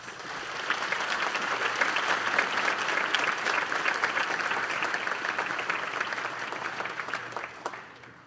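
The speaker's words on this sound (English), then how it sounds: "If we could give them a round of applause." A steady round of audience applause at a high school National Honor Society induction ceremony, evenly sustained at moderate volume for about eight seconds with no voices over it.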